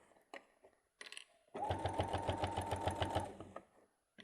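A sewing machine bastes a flap onto a bag: a few light clicks and taps, then a steady rapid run of stitching for about two seconds before it stops.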